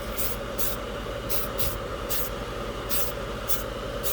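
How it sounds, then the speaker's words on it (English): A spray can of primer for scale models sends out about seven short, sharp hissing bursts from its nozzle, evenly spaced and close by, over a steady low background hum. "Nice atomization out of the nozzle."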